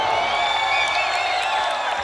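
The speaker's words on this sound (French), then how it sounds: "je vous demande tous d'applaudir bien fort le maestro Joe Arroyo qui arrive" An audience applauding and cheering for maestro Joe Arroyo at a show: dense, continuous crowd roar with clapping and whistles, steady and loud throughout, a voice over a loudspeaker faintly mixed in.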